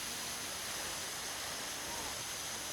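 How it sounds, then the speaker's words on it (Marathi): Steady broadband rush of a tall waterfall of cold water beside the Amarnath Yatra pilgrimage route in the mountains, a continuous even roar heard at moderate distance with no talk over it. "तर इथं मस्त योसा धबधबा आहे एक"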